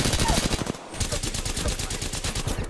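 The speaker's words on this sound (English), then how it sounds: "I am taking fire, friends" Rapid automatic gunfire in a video game, a fast rhythmic stream of loud shots with a brief break before resuming steadily.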